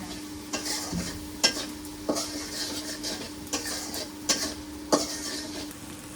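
Chilies fry in a pan with a steady crackling sizzle, punctuated by regular clanking spatula strikes and scrapes against the metal, close and fairly loud.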